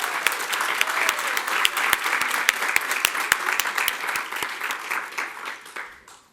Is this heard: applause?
yes